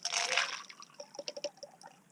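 A burley mix of water, pellets and tuna oil is poured out for King George whiting fishing, starting as a splashy gush and breaking into a short run of close drips and trickles.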